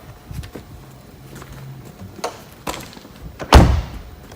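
A single solid car door thud near the end, loud and close, preceded by a few softer knocks and faint movement, from a 2018 Platinum Phoenix vehicle.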